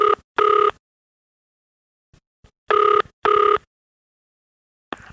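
Telephone line on an interstate STD call in which short tonal pips precede the ring of a company switchboard, giving clear, loud beeping tone bursts in pairs with quiet gaps and faint clicks between them.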